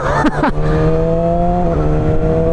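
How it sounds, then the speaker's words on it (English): A steady engine drone with sustained harmonic tones from a 2025 Yamaha R6 motorcycle being test ridden nearby, with brief rising whine bursts at the start. "This is just the perfect condition to test ride my brand new motorcycle."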